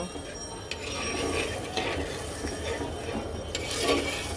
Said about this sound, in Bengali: এখন এর মধ্যে দিয়ে দেবো সামান্য পরিমাণে জল মশলাটাকে আরও কিছুক্ষণ সুন্দর করে কষানোর জন্য